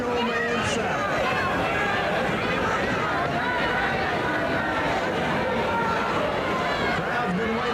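A wrestling arena crowd in Memphis keeps up a dense, steady roar of chatter and cheering for the whole stretch, loud and unbroken, with no single voice standing out.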